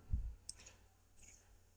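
A computer mouse click, one soft, close, short tick after a low thump, with faint clicks following in a quiet room.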